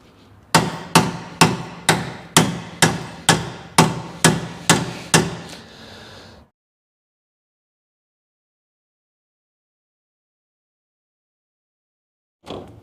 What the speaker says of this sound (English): hammer right here with the rubber mallet